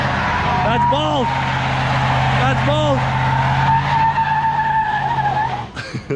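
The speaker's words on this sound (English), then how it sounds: "truck can burn both tires" A truck does a burnout, its tires spinning and squealing loudly over a steady engine drone, with sweeping screeches rising and falling before the noise cuts off near the end.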